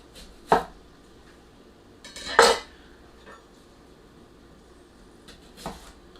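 A chef knife cuts food on a cutting board, leaving a few sparse, faint knocks and clacks of blade on board with long quiet gaps between them.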